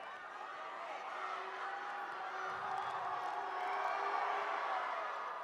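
A basketball arena crowd at a high school boys state tournament game cheers and whoops as a replay plays on the scoreboard, a sustained, steady roar of many voices that swells slightly toward the end.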